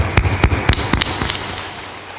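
A large audience claps loudly at a Hindi spiritual gathering, with a dense, crackling burst of applause that swells with a few sharp peaks and then gradually thins out.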